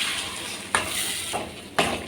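A spoon scrapes through eggplant curry in a pan, making three distinct stirring strokes over a soft background sizzle.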